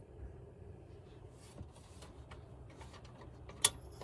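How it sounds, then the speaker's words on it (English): A faint, steady whir of a small video card cooling fan in a Pentium 166 computer hums low and constant, with a single sharp tick near the end. "that's the sound of the fan on the video card"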